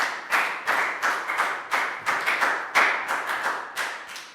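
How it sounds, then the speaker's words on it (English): A classroom of young students claps a round of applause during a Year 3 math lesson, steady overlapping bursts of hand clapping in a quick, uneven rhythm, close and fairly loud, with no talking. "High five and a big round of applause for Pangpon."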